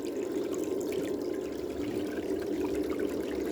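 Steady rushing water flows through a gold sluice box in a continuous, even wash with no breaks or voices.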